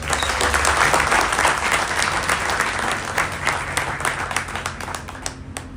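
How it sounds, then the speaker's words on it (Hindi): A crowd applauds steadily at a Hindi-speaking gathering honouring a man named Indra, dense clapping filling the whole stretch at fairly loud level with no speech over it. "इंद्र भाई के लिए जोरदार तालियां"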